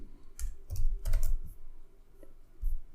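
Someone types on a computer keyboard in short, close bursts of crisp key clicks with small pauses between them, and no voice.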